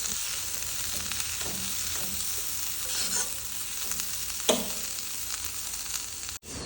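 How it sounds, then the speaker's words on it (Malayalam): An egg masala filling with coriander leaves stirred in a hot pan for a bread egg roll snack, a continuous loud sizzle with soft spatula scrapes throughout and one sharper knock near the end. "ഇതിലേക്ക് കുറച്ച് മല്ലിയിലും കൂടെ ചേർത്ത് കൊടുക്കുക എന്നിട്ട് നന്നായിട്ടൊന്ന് മിക്സാക്കി കൊടുക്കുക"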